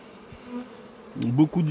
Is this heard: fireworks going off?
no